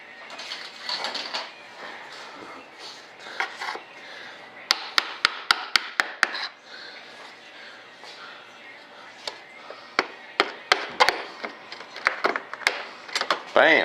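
An old hammer knocks epoxy-filled joints into place, a series of sharp, close wooden knocks in quick bursts with pauses between, with some talk in the background.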